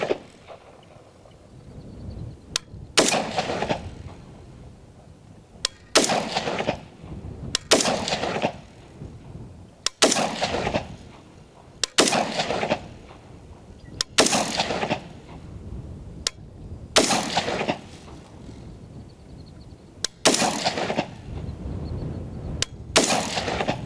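A 5.56 rifle firing single shots outdoors at a steel target, about ten sharp, loud cracks spaced a couple of seconds apart, each followed by a ringing, echoing tail, with no talk between shots.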